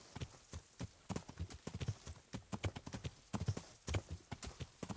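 Steady clip-clop of horse hooves at a brisk trotting rhythm in the video game Kingdom Come: Deliverance, close and fairly loud, with no voices over it.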